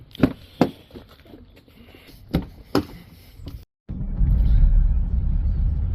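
A few sharp clicks and knocks inside a car on a foggy day, then after a brief hush the engine rumbles steadily as the car drives off along a wet road.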